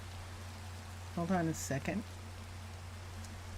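Minecraft rain keeps up a quiet continuous patter beneath a brief spoken phrase from a man, with a low steady hum throughout.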